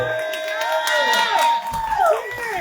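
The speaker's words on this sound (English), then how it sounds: "Y'all can clap it up." Crowd at a trap poetry show cheering, whooping and clapping for a reading, a lively near burst of voices and applause sustained across the moment.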